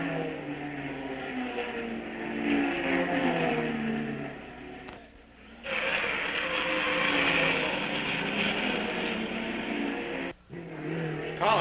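Loud engines of 1958 sports racing cars at the 12 Hours of Sebring endurance race, a steady roar with rising and falling revs that cuts out abruptly twice, briefly near the middle and again near the end.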